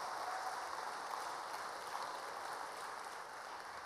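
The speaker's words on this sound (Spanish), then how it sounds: "Dele al Señor un poderoso aplauso de alabanza" A church congregation gives a sustained round of applause in praise, a dense, even wash of many hands clapping that holds steady at a distance without a break.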